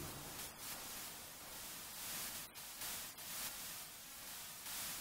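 Steady white noise, a constant broadband hiss with brief dips and dropouts, playing alone without voices.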